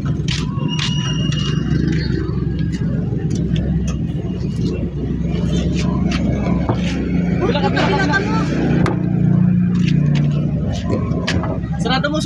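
A car engine idles and revs close by as the repaired vehicle pulls away, a steady mid-pitched rumble under nearby chatter and scattered talk.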